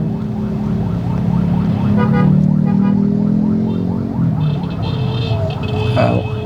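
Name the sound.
ambulance siren passing by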